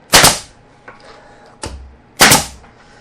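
A fastener gun fires fasteners to pin a workpiece down against the side on a CNC router table with T-track, giving two loud sharp shots with a fainter pop between, close up and without talk.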